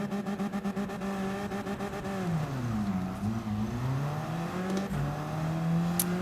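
A race car engine drones and revs in Gran Turismo 7, a steady loud harmonic whine that dips and climbs through gear and throttle changes, with a brief tire squeal near the end.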